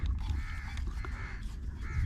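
Crow cawing outdoors during an airgun hunt, a few harsh calls repeating over a constant low rumble of wind or background noise, moderately loud and without talk.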